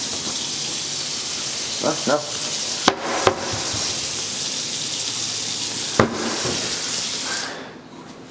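Hot water runs from a tap in a renovated house, a steady hissing stream broken by a few sharp clicks and knocks before it tails off near the end.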